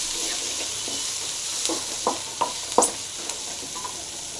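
Six dried red chillies crackle in hot oil for an egg and agathi greens dish, a soft steady sizzle broken by several sharp pops and spits near the middle, close and without talk.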